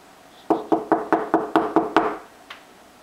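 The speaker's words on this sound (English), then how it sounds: "Do knock again." A child knocks on a door, eight sharp evenly spaced raps in a quick loud run, then one fainter tap after a pause, with no talk.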